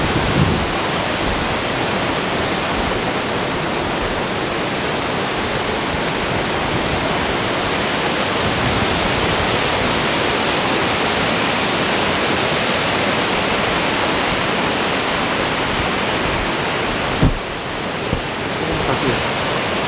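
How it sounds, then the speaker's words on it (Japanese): Kawazu Seven Falls waterfall roaring as a dense, steady broadband rush of falling water, close and loud throughout, with a brief bump near the end and no talk. "滝です。"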